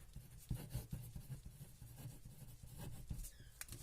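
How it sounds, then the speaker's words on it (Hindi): Chalk or marker strokes scratching across a board during a physics lecture on the cross product, a steady run of short taps and scrapes at moderate level with no talking. "तो अभी हम लिखते हैं द क्रॉस प्रोडक्ट"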